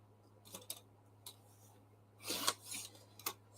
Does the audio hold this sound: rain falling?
no